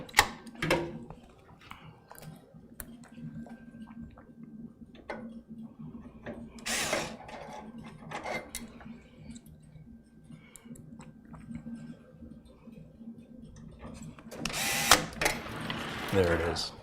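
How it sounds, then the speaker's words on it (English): Screws driven in during assembly of a high-end desktop computer, heard as intermittent ratcheting, clicking bursts of a screwdriver with soft mechanical handling noise and a low background hum between them. "And I have 2 more screws to put in."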